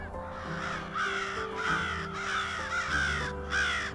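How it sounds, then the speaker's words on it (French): Crows caw repeatedly in a woodland, harassing a great grey owl; several loud bursts of harsh calls come in an uneven rhythm over faint background noise. "Les corneilles sont de plus en plus actives et harcèlent la chouette laponne"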